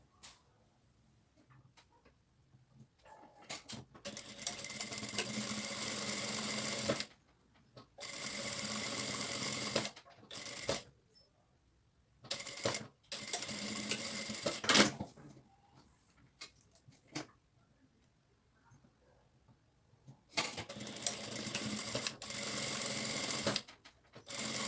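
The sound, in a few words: sewing machine joining two fabrics for a lining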